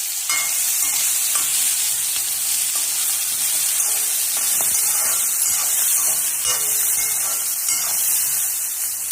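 Ginger and garlic fry in oil in a pan for green chana curry, a loud, continuous hissing sizzle close by with steady stirring scrapes throughout and no voices.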